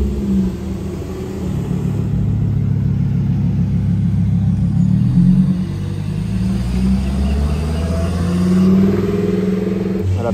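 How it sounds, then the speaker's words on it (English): A McLaren P1 supercar at Monterey Car Week rumbles past with a loud, steady engine note that swells and eases as it moves by at close range. "Got a P1 coming here, I don't know if you can see it, there it is."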